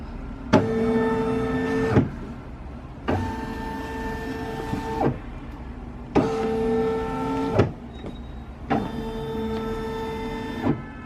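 A Brother PE800 embroidery machine drives its hoop around to trace the design outline, four separate whirring motor runs of about one and a half seconds each, close and clear with short quiet gaps between.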